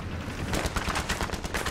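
In a video game, a pump shotgun fires a rapid string of muffled, booming shots in quick succession, loud and close with no talking over it.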